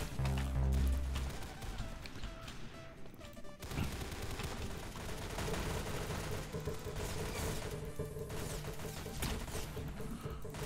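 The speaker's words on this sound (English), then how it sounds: "I'm just spam firing, hoping for the best." Rapid, spammed gunfire in the Roblox shooter Arsenal, a dense continuous stream of shots over loud background music, with the firing running steadily throughout.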